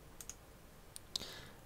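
Computer mouse clicks while picking colours with the eyedropper tool in Photoshop CS6: a few faint, sparse, sharp clicks spread across a quiet stretch, with no talking.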